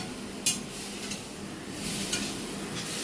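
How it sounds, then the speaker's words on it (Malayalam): Grated coconut sautés in a pan with a low, steady sizzle, while a utensil stirs it and scrapes the pan now and then, giving a few brief clinks close by. "അതിനകത്ത് കുറച്ച് തേങ്ങാപ്പീര ഇടുക. എന്നിട്ട് ഇങ്ങനെ വഴറ്റണം."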